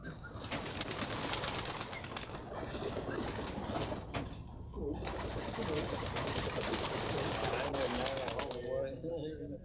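Racing pigeons coo and flutter in a loft, soft throaty cooing and occasional wing movement heard close amid a busy, noisy room, with people talking over the birds throughout.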